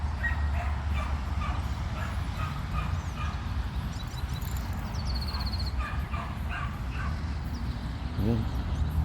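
Outdoors, a dog barks and yips in short bursts against constant wind and background noise, while people talk nearby.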